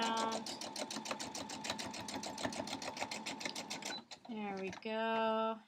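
A sewing machine stitching fabric for a scrappy quilt block runs in a fast, steady mechanical rattle, then stops and starts with short whirring bursts as the needle is turned.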